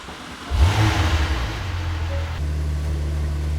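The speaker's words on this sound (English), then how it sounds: "let's start the car" A car that was struck by lightning starts up: the engine catches with a brief rev, then settles into a steady, close idle with a low rumble and no talking.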